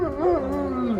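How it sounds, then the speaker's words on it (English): Louie the dog lets out a single drawn-out howl, rising then sliding down in pitch over about a second, close and fairly loud. "I legit taught Louie to howl when the fire sirens go off"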